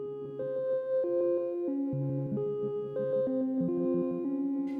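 A self-built modular synthesizer plays a patch of steady electronic tones that step between pitches in a looping melodic pattern, fairly quiet and continuous, with no voice.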